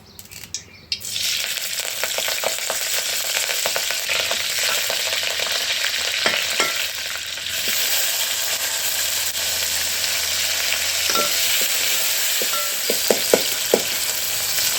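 Vegetables with curry leaves frying in oil in a pan over a rural wood-fired stove make a steady close sizzle throughout, with scattered clinks and scrapes of stirring.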